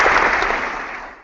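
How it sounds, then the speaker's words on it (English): A crowd roars and applauds in a dense, steady wash of clapping and cheering that slowly fades away, with no speech over it. "And the crowd roars."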